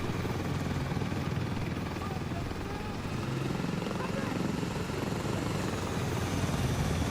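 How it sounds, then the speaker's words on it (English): A video game helicopter drones loudly and steadily throughout, a dense rotor rumble filling the space with no pauses. "God, that helicopter is loud."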